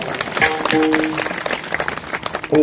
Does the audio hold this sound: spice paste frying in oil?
no